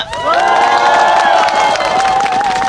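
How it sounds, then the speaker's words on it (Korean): A large indoor political rally crowd applauds and cheers for Park Young-sun, a dense, loud, sustained roar of clapping with whoops and shouts rising above it, close and continuous throughout. "박영선 의원님께 다시 한번 연대와 지지 박수를 보내주시기 바랍니다"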